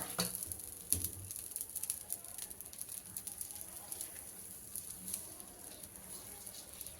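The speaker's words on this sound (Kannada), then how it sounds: "ಈಗ ಹೆಂಚು ರೆಡಿಯಾಗಿದೆ. ದೋಸೆ ಹಾಕ್ಕೊಬಿಡೋಣ." Wheat flour dosa batter sizzles on a hot greased griddle, giving a steady close crackle with small pops and a faint high hiss throughout, no talking.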